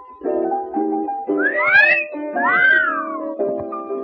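Two rising-and-falling appreciative whistles sound over a bright, sustained musical backing in a radio show's sound effect, close and clear.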